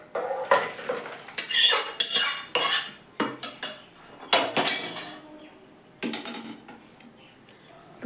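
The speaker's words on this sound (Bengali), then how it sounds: "ডালটা হয়ে গেছে বন্ধুরা, নামিয়ে দিচ্ছি" A pot of mung dal cooked with a fish head is taken off the stove, with metal clanks, scrapes and clinks of the pot and utensils in uneven bursts, close and fairly loud, separated by brief quiet gaps.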